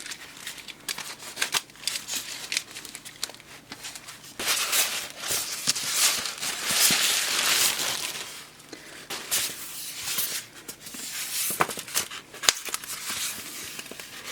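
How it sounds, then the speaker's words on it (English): A knife scrapes, slices and crinkles through packing on a parcel stuffed with polystyrene, giving irregular close tearing and crackling bursts with pauses between cuts. "I need to use a real knife to cut this open."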